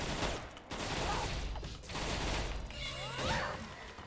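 Dual pistols fire in the online fantasy game Aion, a rapid fusillade of synthetic gunshots emptying a clip over a busy game soundscape, with a brief cutoff and mechanical reload-like clicks toward the end.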